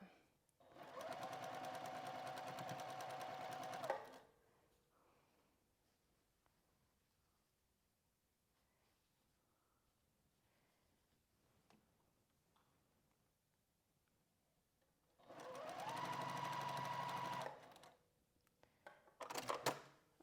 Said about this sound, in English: And I chain stitch these and I leave them attached.